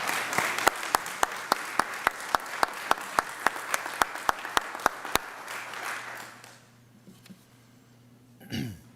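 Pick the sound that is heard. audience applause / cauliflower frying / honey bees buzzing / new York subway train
audience applause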